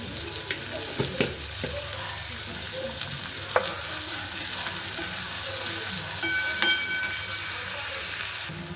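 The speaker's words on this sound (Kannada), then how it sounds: "ಒಂಚೂರು ಉಪ್ಪು ಹಾಕ್ಕೊಂಡ್ರೆ ಬೇಗ ಫ್ರೈ ಆಗುತ್ತೆ." Capsicum salted and frying in a pan for a tomato gojju sizzles continuously up close, broken by scattered spatula clinks and scrapes against the pan, with no voices over it.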